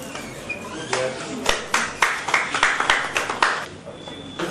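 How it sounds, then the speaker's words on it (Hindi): An audience claps to honour a doctor recognised as a corona warrior, at first scattered, then building into a fairly loud run of steady applause, with a voice over the clapping at times. "मैं जोरदार तालियों के साथ उनका स्वागत करने के लिए आप सभी से अनुरोध करता हूं"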